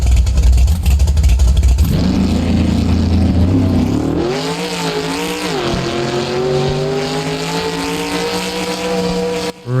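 A car engine in the BeamNG driving game revs hard and close, climbing and falling in pitch through gear changes and staying loud and steady throughout.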